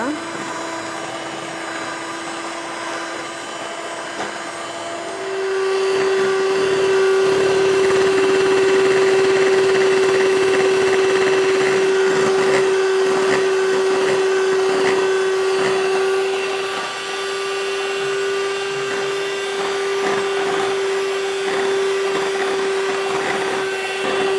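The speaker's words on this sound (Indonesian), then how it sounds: "Lalu kita kocok sampai kental. Langsung pakai kecepatan tinggi nggak apa-apa." An electric mixer whirs steadily at high speed, beating cake batter for a roll cake until it thickens. The motor whine steps up to full speed early and holds near and loud, with a rattling bowl beneath it.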